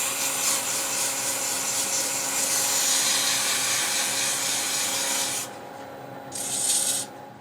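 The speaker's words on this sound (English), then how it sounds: "And I sand through all the grits." A turned wooden box made of contrasting woods is sanded through successive grits, giving a steady, close, hissing rub that stops abruptly after about five seconds before a short final pass.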